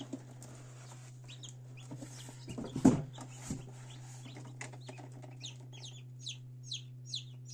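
Chicks peep and cheep inside a fogged-up egg incubator during a new-breed chicken hatch. The calls are short, high and scattered, some faint and some clearer, over a steady low hum from the machine.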